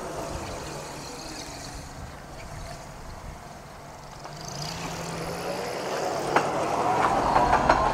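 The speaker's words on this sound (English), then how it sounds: "CSX track car. I knew I heard something." A CSX rail track car approaching and passing along railroad tracks outdoors, a low rumbling drone that builds gradually from faint and distant to louder and nearer, with light clicking and rattling toward the end.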